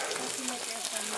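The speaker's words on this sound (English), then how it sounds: "Bacon frying always smells good, doesn't it?" Bacon frying on a discada set over a campfire outdoors, a steady close sizzle with soft crackle running through the short moment.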